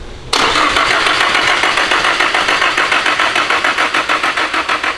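A Nissan Silvia S15 with a VVL engine fires up for the first time, catching abruptly after a quiet moment and then running loud and rough with a rapid, pulsing chug that grows more uneven toward the end.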